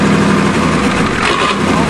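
A diesel Ford truck engine runs steadily at idle after starting, a continuous broadband rumble that stays loud and close throughout, with no clear speech over it.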